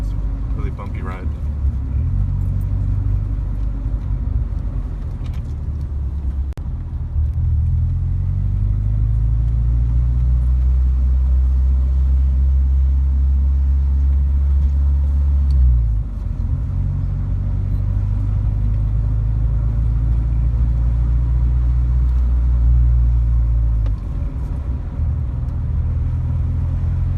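Subaru Impreza 2.5RS GC8 with coilovers on a bumpy road, its engine and exhaust droning low and steady as it drives, with revs easing and rising through the run.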